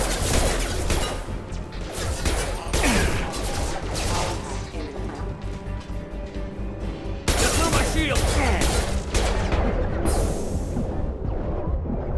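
Heavy explosive gunfire from a grenade launcher aimed at mechs in Mass Effect 2, on Insanity difficulty aboard the Normandy, comes as loud repeated blasts and crashes amid constant battle noise, with voices talking over it.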